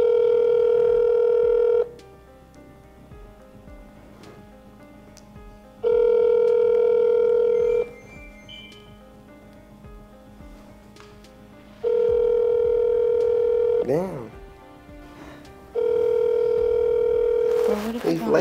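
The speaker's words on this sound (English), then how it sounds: "Barbara's gonna give Kennan a call real quick just to see if he's still coming" A phone call ringing out: three long, loud ringback tones separated by quiet gaps, with short dialing or tone blips near the end and faint background voices in the pauses.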